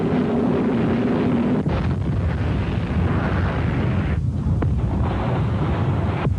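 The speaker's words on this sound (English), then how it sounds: "The Exocet missile rips into the hull and the ship bursts into flames" An Exocet missile strikes the hull of the British ship Sheffield during the Falklands conflict, a loud, dense roaring blast and rumble that fills the whole stretch with a sharp break partway, with no voices.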